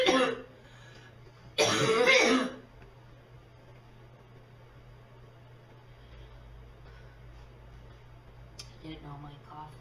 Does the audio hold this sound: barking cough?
yes